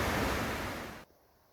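A large mountain river along the Pacific Crest Trail near Mather Pass roars as a loud, steady broadband rush that cuts off abruptly after about a second, leaving faint background hiss.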